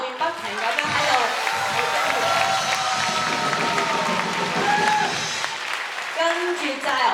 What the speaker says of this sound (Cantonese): 但係我哋又照俾啲掌聲佢